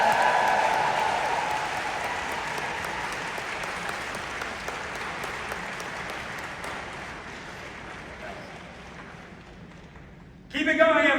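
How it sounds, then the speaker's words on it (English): A large convention audience applauds in a long, steady, loud wash of clapping that slowly fades over about ten seconds before a speaker's voice cuts in at the end. "Give a round of applause, everyone."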